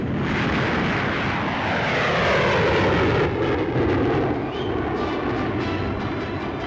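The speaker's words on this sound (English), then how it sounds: "umont, chief test pilot of English Electric, pilots the latest version of the Canberra jet bomber, which is now going into production for the RAF." An English Electric Canberra jet bomber powered by two Avon gas turbines flies past, a loud, continuous broadband jet roar with a falling sweep as it passes close overhead.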